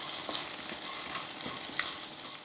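Onions sautéing with cardamom, cinnamon and spices for mutton curry, a steady close sizzle with soft stirring scrapes spread through, no voices.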